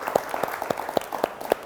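An audience at a Yogyakarta government inauguration event claps at a moderate, uneven pace, a short burst of separate hand claps heard close rather than a roaring crowd.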